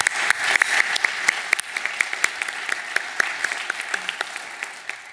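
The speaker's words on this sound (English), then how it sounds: "Let's all give her a round of applause." An audience at a university Distinguished Alumni Awards ceremony gives a steady round of applause, with many distinct hand claps forming a moderately loud, continuous patter that fades slightly toward the end.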